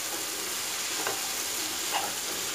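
Okra frying in a pan with whole green chillies gives a dense, continuous sizzle, with a couple of soft stirring scrapes rising briefly above it. The sound is close and nobody speaks.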